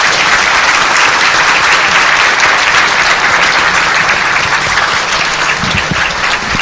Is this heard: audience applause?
yes